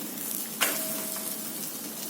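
Ghee hits a hot pan under a Kadapa karam dosa, giving a sudden hiss that settles into steady sizzling frying.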